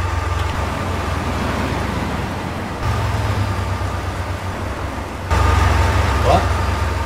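A heavy truck in Euro Truck Simulator 2 rolls down a highway, its engine a steady low drone with road noise throughout, shifting in level twice as the drive continues, no one speaking.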